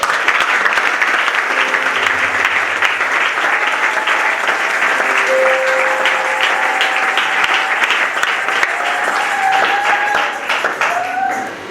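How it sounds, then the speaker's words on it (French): A congregation in church claps for the Lord during a Sunday service marking a couple's 29th anniversary. Dense, loud applause runs without a break for nearly twelve seconds, with faint sustained music tones underneath. "Applaudissons pour le Seigneur."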